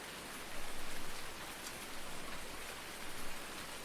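Rain falls in the video game Farming Simulator 19, a constant hiss of drops on surfaces with gentle swells in loudness and no talk.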